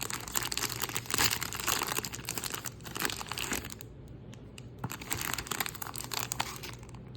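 A 1990 Donruss baseball card rack pack is torn open up close, its plastic wrapper crinkling and crackling loudly in bursts, with a brief quieter pause partway through.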